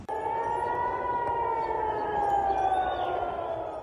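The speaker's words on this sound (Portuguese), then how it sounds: "Pela primeira vez em 50 anos, Jerusalém ouvia sirenes alertando para possíveis bombardeios" Civil defense air raid sirens sounding across Jerusalem, a sustained wailing tone that slowly bends in pitch, with a second siren layered in and rising near the end, steady and fairly loud with no voices.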